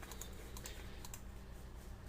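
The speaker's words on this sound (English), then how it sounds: "So I'm just hitting the arrows until it's right over the top." Computer keyboard arrow keys tapped repeatedly to nudge an image into place in Photoshop, a series of light, quick clicks in small clusters over a steady background hiss.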